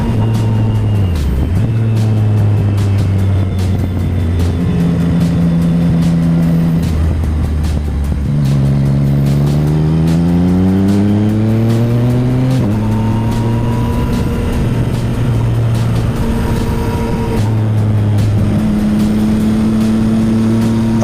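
A Yamaha MT-09 motorcycle runs on a race track, its engine loud and close with pitch rising and falling through upshifts, downshifts and throttle changes. The engine sound is steady and continuous, with no speech over it.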